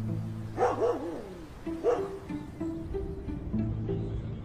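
Guard dogs bark in a few separate bursts, two louder barks early on and fainter ones after, over a steady low background hum with no talk.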